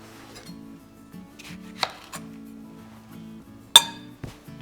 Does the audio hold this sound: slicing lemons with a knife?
yes